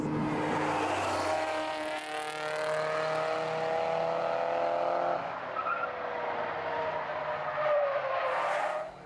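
Race cars roar on the Langley Speedway oval during a Wacky Wednesday event as one driver goes in hard at turn four and spins, engine noise swelling with long tire squeals and skidding, loud and close throughout.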